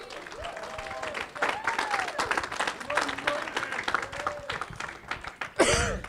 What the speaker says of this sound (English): Let's give a round of applause to my husband